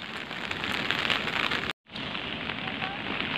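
Steady rain pattering on a surface, a dense close hiss that drops out briefly midway before resuming.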